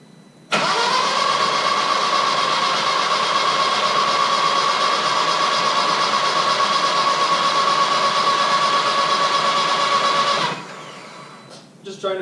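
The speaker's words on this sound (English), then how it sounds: "Alright, here we go. I'm gonna try and crank it over." A VW Jetta engine with its spark plugs removed cranks over on the starter in one steady, loud, buzzing whir for about ten seconds, then stops abruptly, leaving quieter background noise.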